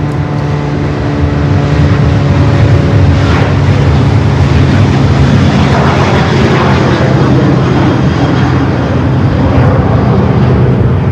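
A Delta airliner at Los Angeles International Airport gives a steady, loud jet engine roar that stays constant throughout, with a broad rumbling wash and no talk.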